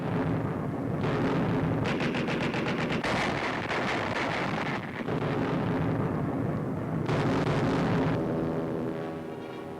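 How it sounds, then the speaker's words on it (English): Anti-aircraft pom-pom guns firing aboard an Arctic convoy in a 1942 wartime newsreel, a dense, continuous roar of rapid bursts and booms that sustains throughout, loud and close, with brief dips between salvos. "Pom-poms, anti-aircraft guns blaze into action."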